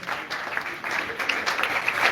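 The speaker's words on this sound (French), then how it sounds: "Merci de bien applaudir pour ces artistes" An awards-ceremony audience claps steadily to honour comedians, a dense wash of hands that swells slightly toward the end, with no voices over it.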